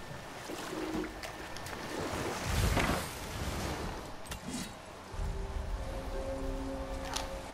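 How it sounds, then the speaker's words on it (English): Rushing water from a huge waterfall in God of War roars steadily throughout, loud and broadband, with a few brief tonal game sounds over it. "I've never seen a waterfall so big."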